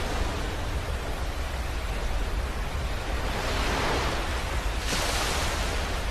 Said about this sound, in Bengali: সমুদ্রের উপকূলের আশ্রে পড়া ঢেউয়ের শব্দ শুনতে পারবেন